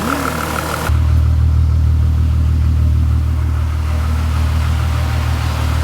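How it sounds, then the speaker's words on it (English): A cheap, worn Volkswagen GTI winter beater's engine kicks in loudly after a brief softer start, then holds a strong, steady mechanical roar close by, with no one talking. "Wow, this car has never sounded better."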